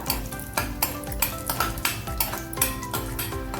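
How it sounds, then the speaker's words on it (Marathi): Chopped almonds sautéed in ghee in a pan for rose-shaped ukadiche modak, a metal spoon scraping and clinking in a steady rhythm of strokes over a soft sizzle, close and clear. "हे 2 मिनिटं परतवून घेतले"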